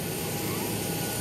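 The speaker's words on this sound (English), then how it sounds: "Boarding by the rear of the plane." Airplane jet engine whining steadily during boarding through the rear of the plane, a continuous broadband roar with a thin high whine, even and unbroken throughout.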